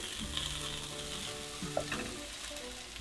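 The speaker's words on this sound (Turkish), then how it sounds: "Ben bu kıvama gelince yumurtayı döküyorum." Beaten eggs for a vegetable omelette hit a hot pan and sizzle steadily, a close frying hiss with light stirring scrapes and no talk.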